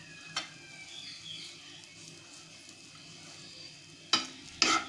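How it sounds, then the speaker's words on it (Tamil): Bread upma being stirred in a pan over low heat, a faint steady scrape and sizzle running throughout, with a few sharper utensil knocks near the start and the end. "சிம்மில் வச்சுட்டு கிளறுங்க"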